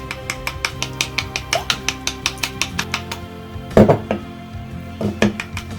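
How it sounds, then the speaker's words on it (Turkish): Two eggs being beaten with a metal spoon in a bowl, the same spoon used to stir a chickpea menemen; a quick, steady run of about eighteen clinks up close, then a few heavier knocks. "Bunu yine aynı kaşıkla, menemene karıştırdığım kaşıkla güzelce çırpıyorum."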